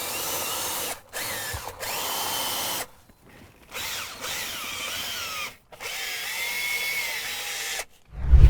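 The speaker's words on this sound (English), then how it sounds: "I'm going to take our drill brush, stick it in the cup holder," A power drill with a brush attachment whirs in several bursts scrubbing a car cup holder, each start and stop clearly marked, with a high scrubbing buzz close by.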